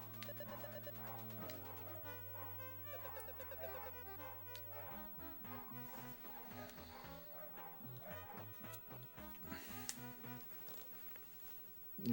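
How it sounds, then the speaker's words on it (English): Dogs bark in the background, faint and indoors, under loud chiptune music from an NES game speedrun. "Oh, the dogs are barking."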